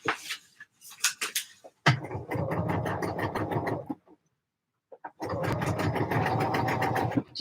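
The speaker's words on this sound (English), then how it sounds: "I'm understitching before I've pressed" A sewing machine understitching a seam runs in two steady bursts of a few seconds each, separated by a short pause, with rapid repetitive needle clatter and a motor hum close by; brief handling noises come before the first run.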